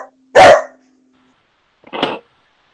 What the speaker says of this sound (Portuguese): Opa, cachorrinho de alguém aí.